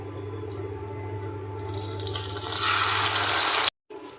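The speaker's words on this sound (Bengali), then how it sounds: "এবার আমি তেঁতুলটা দিয়ে দিচ্ছি এখানে।" Tamarind pulp goes into hot oil with cumin seeds in a kadai, and a hiss of sizzling swells up loud and bright over a faint background hum before cutting off abruptly.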